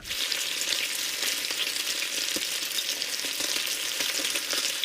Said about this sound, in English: if that sizzling sound made your mouth water